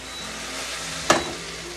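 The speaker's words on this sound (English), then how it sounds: "So give everything a nice stir." Soup ingredients get a single quick scrape of a stir in a pot, one short, sharp swish rising over a soft, steady background sizzle.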